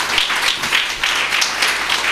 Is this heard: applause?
yes